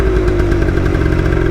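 A loud X90 motorcycle engine cruises steadily in fourth gear, giving a constant close-up drone with a fast, even pulse throughout.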